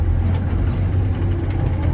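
A Toyota FJ40 engine runs in a steady low, rumbling drone out on a bush track, close and loud with no talking.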